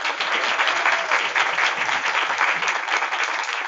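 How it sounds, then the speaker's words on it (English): At a transplant conference, a large audience gives a sustained, even round of applause that fills the hall for several seconds without any voices over it. "Can we get another round of applause for Rod?"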